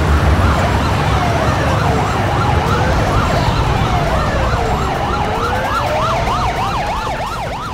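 Ambulance siren wailing loudly in a TV crime drama scene, rising and falling sweeps with a second siren tone overlapping, over road and engine rumble, steady and close.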